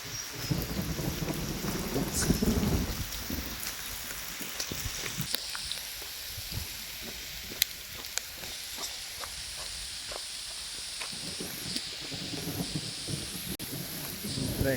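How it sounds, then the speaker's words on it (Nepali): Heavy hail and rain patter and hiss on surfaces on the summit of Phulchowki Hill, Kathmandu Valley, with rumbles of thunder and sharp impacts scattered throughout. "यस्तो मजाको असिना"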